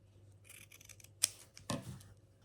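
Scissors cut through folded quilting fabric for a small summer-themed mini quilt, giving two distinct close snips about half a second apart against a quiet background.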